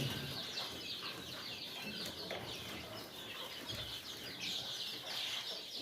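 Quails chirp and cluck continuously in a close, busy coop, with bursts of wing flapping and no talking.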